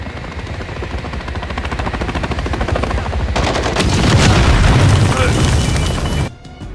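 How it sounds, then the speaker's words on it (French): An explosive drone blast in Call of Duty Modern Warfare 3 hits during a dense, continuous roar of heavy gunfire and booms that swells louder midway, then cuts off abruptly near the end. "J'utilise un drone explosif."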